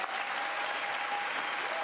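A large chamber audience claps steadily during the State of the Union address, a thick, continuous wash of applause with a faint tone running underneath.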